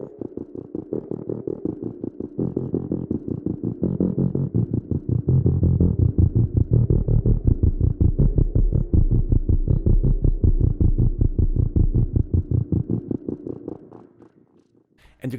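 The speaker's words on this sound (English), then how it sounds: "the ability to create fat, beautiful bass sounds" An ensemble of ten analog synthesizers plays fat sine-wave bass: a loud, rapidly pulsing low throb that repeats steadily for about fourteen seconds before fading out near the end.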